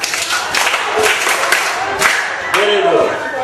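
Students in a Kenyan math classroom clap for a classmate, with scattered, uneven claps close by and mixed with voices calling out.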